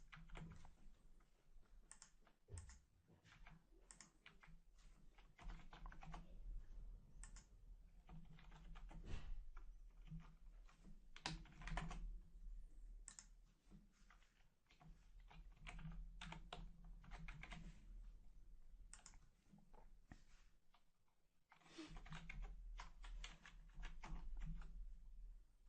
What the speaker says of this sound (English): I'm just going to key in any old gibberish here.